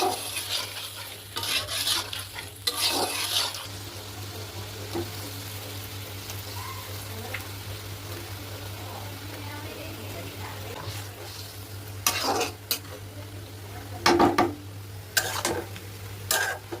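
Fish paturi cooks in a pan on a home stove with a low steady simmering hiss, broken by a few sharp clinks and scrapes of a utensil against the pan.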